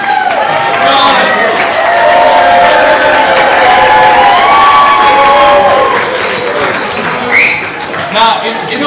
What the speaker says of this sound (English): we may all have to have a round of applause for Scarlett